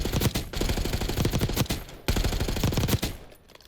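Loud automatic gunfire at targets in the video game Call of Duty: Black Ops 6 comes as two long, rapid bursts separated by a short pause. The shots are close and the second burst tails off into quiet.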